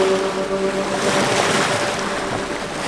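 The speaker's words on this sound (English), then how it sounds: "that is the engine you can hear again" Sailing boat's engine running at sea, a steady hum beneath wind and water noise for a few seconds.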